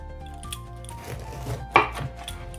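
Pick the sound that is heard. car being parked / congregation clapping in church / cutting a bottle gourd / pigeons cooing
cutting a bottle gourd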